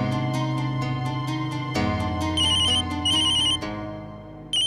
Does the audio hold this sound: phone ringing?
yes